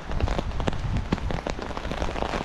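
Steady rain patters densely on surfaces outdoors during a walk, a close, continuous hiss with scattered sharper drops and no voices.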